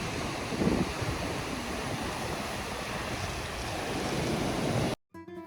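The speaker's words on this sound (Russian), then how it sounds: "Огромные волны, Атлантический океан, серферы." Atlantic Ocean surf breaking at Puerto de la Cruz, Tenerife, a loud continuous roar of waves with wind buffeting the microphone before an abrupt cut near the end.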